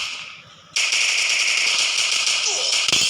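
Rapid automatic gunfire rattles loudly and steadily in a video game shooter, a continuous burst running almost the whole time after a brief quieter lead-in, with a sharp single shot near the end.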